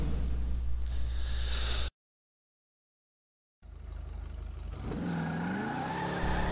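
Car engine in GTA V revving loudly, a sustained mid-pitched drone that cuts to a couple of seconds of silence, then returns and climbs in pitch as the virtual car accelerates.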